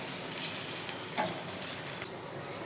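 Onions fry in a pan toward light brown for a masala bhindi dish, producing a continuous, moderately quiet sizzle with faint stirring scrapes and no voices.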